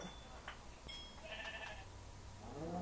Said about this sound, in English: go get that sheep over there, dude.